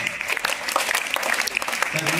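Students clap at a school science quiz, a dense burst of applause held throughout, with a voice speaking over it near the end.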